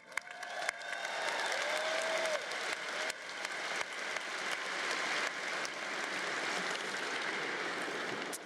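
Audience applause welcoming a commencement speaker at a Syracuse University Newhouse School graduation, sustained and dense clapping that swells quickly and holds steady throughout, with a faint whistle early on.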